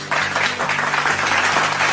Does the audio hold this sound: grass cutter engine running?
no